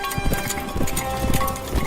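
Horse hooves clip-clopping in a western film, a steady run of hoofbeats close by with a busy score playing underneath.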